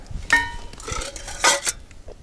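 Metal camping cookware, pots and a frying pan, clatter together briefly, two bright clanks ringing out up close with small rattles in between.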